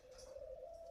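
A spotted dove coos with a steady, low, hollow tone at a dove breeding farm, carrying softly over a quiet background.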